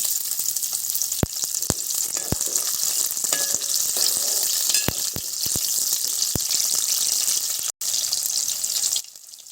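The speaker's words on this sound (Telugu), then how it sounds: "కోసుకున్న ఉల్లిగడ్డ పచ్చిమిర్చి ముక్కలను బాగా వేయించుకోవాలి" Chopped onion and green chili pieces fry in hot oil in a pot, a steady loud sizzle running throughout with several sharp clinks of a spoon stirring against the metal.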